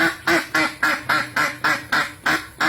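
A squeezable rubber duck toy quacks in a steady series of about nine honking squeaks, each pressed from its rear end, close and loud with no talk over them.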